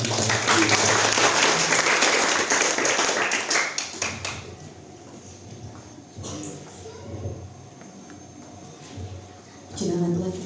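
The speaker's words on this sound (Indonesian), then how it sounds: "Kasih tepuk tangan bagi Tuhan." Church congregation applauding during a worship service, a dense burst of clapping for about four seconds that fades into scattered claps and murmuring, with a short renewed patter near the end.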